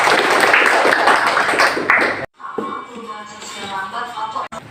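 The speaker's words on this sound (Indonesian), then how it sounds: "tepuk tangan untuk Wenti" A junior high social studies class claps for a student, giving about two seconds of dense, loud applause that cuts off abruptly and gives way to quieter room sounds.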